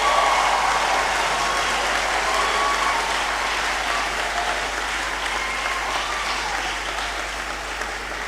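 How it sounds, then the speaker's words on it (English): Sustained audience applause for a guest speaker at a memorial lecture hall event, a dense steady wash of many hands clapping that holds loud throughout and tapers only slightly toward the end. "So let us give another round of applause"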